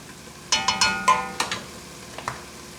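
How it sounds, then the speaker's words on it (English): Lentils and softened vegetables stirred in a soup pot, with about eight sharp metallic clinks and scrapes of a utensil against the pot in quick uneven succession, close and clear with no talk. "Putting the lentils in. Stir those around."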